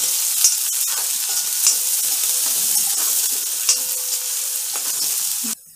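Onion sizzles and fries in hot oil with a pinch of asafoetida, a steady bright crackle with occasional stirring clatters, close and continuous until it cuts off abruptly near the end; a Malvani-style jackfruit seed vegetable dish being cooked.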